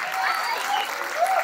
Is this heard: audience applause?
yes